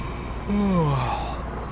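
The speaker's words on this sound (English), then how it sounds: "you hear the yawning of the game in your ear as well" A truck driver yawns in Euro Truck Simulator 2: one drawn-out, falling yawn lasting about half a second, heard clearly over a low steady background hum.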